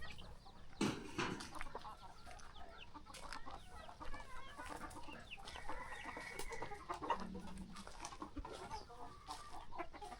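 Laying hens on a rural farm cluck softly and intermittently, with occasional louder calls, faint and fairly distant against quiet background noise.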